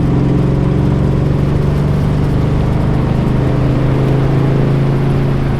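A 1957 Chevy engine runs steadily in second gear, a loud continuous low drone with a strong hum that holds constant throughout, fitted with a new exhaust.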